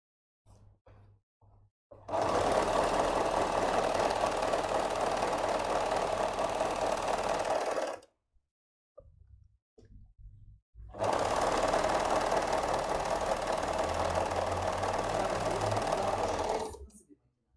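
Industrial sewing machine stitching an abaya in two long, loud continuous runs of steady motor whir, separated by a short pause with light handling noises.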